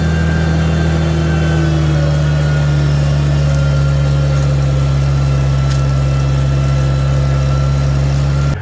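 A Farmall 756 tractor engine runs while plowing a field, giving a loud, steady, close diesel drone with an even low throb that holds constant throughout, without any talking.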